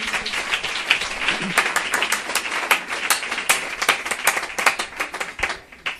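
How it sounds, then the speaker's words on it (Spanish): Congregation applauding in church, a busy spread of sharp handclaps that stays steady, then loosens and thins toward the end. "Vaya, un aplauso"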